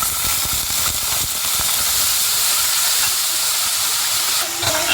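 Chopped carrots hit a hot pan already holding cardamom, a small piece of cinnamon and a little cumin, giving a loud, steady hiss and sizzle that fills the whole stretch up close, with faint clatter near the start.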